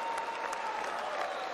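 An audience gives steady, polite applause, a dense continuous patter of many hands at an even level throughout, with no pauses or cheering.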